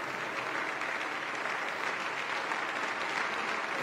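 A small crowd of about thirty people in a hall claps steadily and densely, a continuous even wash of applause with no voices over it.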